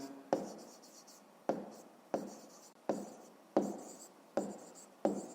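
A pen writes a fifth-grade maths answer by hand, seven crisp strokes on paper at fairly even intervals, close and quiet, each a sharp tap followed by a short scratch, with no voices.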